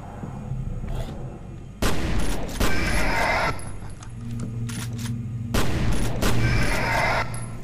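Shotgun blasts ring out in the video game FEAR Perseus Mandate, two loud, booming bursts a few seconds apart, each with a trailing crackle and rumble amid other game noise.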